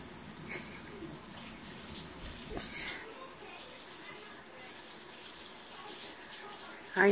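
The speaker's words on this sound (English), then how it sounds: "He's taking his shower." A shower runs steadily in a home bathroom, the water hiss faint and constant, with a voice heard now and then in the background.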